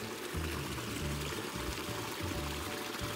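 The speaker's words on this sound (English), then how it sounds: "You can see where all the water comes up out of the ground from the springs up there." Spring water pours and trickles up out of muddy ground on a hillside trail, a steady close, watery flow with soft gurgling, alone with no talk.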